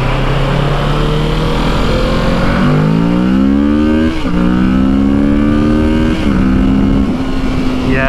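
A Kawasaki motorcycle on a demo ride in Orlando, Florida accelerates hard with a loud, close engine howl that climbs in pitch and then drops sharply at two quick gear shifts before pulling again.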